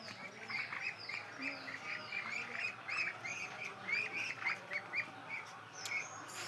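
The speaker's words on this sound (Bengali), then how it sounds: "সিনা হাঁস" A flock of ducks quacks over and over outdoors, the calls overlapping at a steady moderate level with some thin chirps mixed in.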